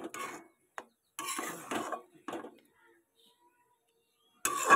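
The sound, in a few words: soybean chunks being added to a pan and stirred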